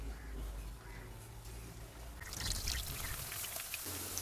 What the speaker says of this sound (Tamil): இந்த டைமில் நம்ம சிப்ஸை ஒவ்வொன்றா சேர்த்துடலாம்.